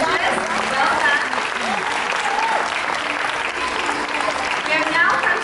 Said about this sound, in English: a big round of applause to our children and the teachers